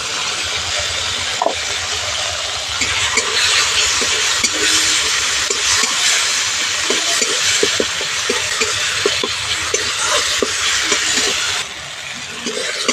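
Ginger paste with softened tomato and turmeric fries loudly in a pan, a dense continuous sizzle punctuated by repeated scraping strokes of a spatula, with no talking.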